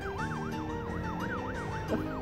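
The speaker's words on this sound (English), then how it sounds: "That's police sirens." Wailing police car siren with a fast rising-and-falling yelp, moderately distant and continuous over low traffic rumble.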